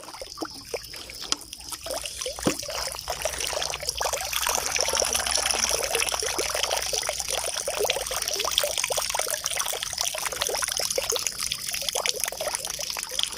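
Floodwater pours and trickles steadily at close range, a continuous splashing, gurgling flow with scattered drips, in a rural Thai setting while trapping shrimp.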